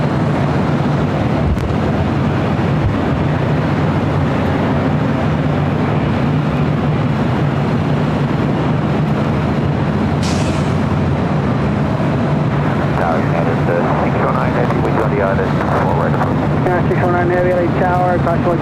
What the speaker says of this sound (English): We do have our second A380 of the day.